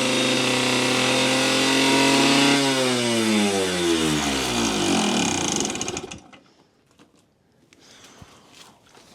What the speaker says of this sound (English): it had a super high revving problem